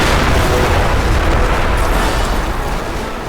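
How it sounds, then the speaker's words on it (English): Explosions rumble in the toy-soldier war game The Toy War as units clash in a siege, a dense continuous roar of overlapping booms, loud and close, with no speech. "And here comes the explosion, man."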